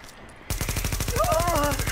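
A big gun fires in The Division, a rapid, loud, evenly spaced automatic burst that starts abruptly and keeps hammering to the end. A faint voice comes in partway through.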